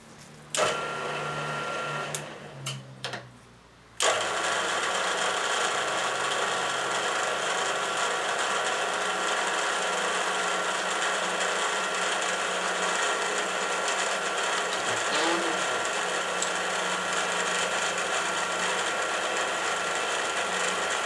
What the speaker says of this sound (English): piece of aluminum there that I need to cut down